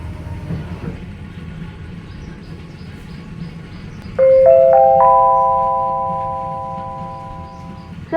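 Thai local train 464 rumbles along its line near Sungai Kolok, a steady rolling drone under which a bright multi-tone electronic chime rings out and slowly fades midway.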